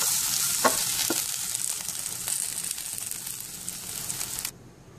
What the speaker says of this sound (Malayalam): സവാള ബ്രൗൺ ആയി തുടങ്ങി